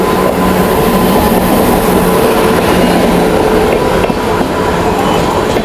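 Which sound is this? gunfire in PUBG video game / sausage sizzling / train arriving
train arriving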